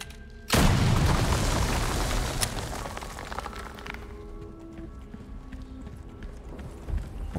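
A single loud gunshot in the video game Resident Evil 4 Remake, a sharp boom followed by a long decaying rumble and scattered game ambience.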